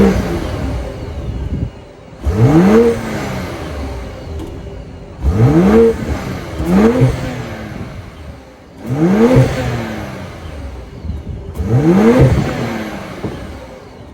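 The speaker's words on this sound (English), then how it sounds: "that was the sound of the 3-liter inline 6-cylinder turbo sold by BMW for the" The 3-liter B58 turbocharged inline-six in a 2024 BMW X6 xDrive40i revs repeatedly from idle: five sharp, rising blips spaced a few seconds apart, each falling back to a low idle, recorded up close.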